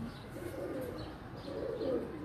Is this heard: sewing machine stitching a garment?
no